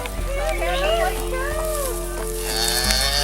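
A cow rescued from confinement moos excitedly, with several rising and falling bellows over a steady low background hum.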